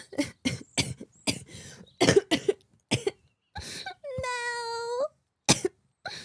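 Several sharp bursts of coughing interspersed with excited speech and a long, high squeal in the middle.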